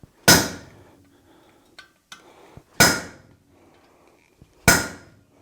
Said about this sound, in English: I got an eyeball punch here, which is super cool, so I'm just going to come right here in the middle.